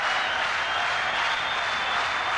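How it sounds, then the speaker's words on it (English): A boxing crowd at the Wayne McCullough versus Fabrice Benichou fight roars and applauds in a dense, loud, continuous wash of noise with no pauses. "Listen to that crowd."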